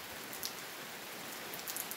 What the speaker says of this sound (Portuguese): tá vindo a chuva aí, ó.